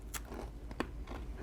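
Someone bites into a crunchy homemade dog treat, giving a few faint, close crunches and crackling snaps over a quiet room.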